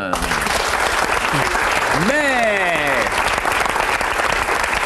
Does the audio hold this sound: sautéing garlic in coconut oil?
no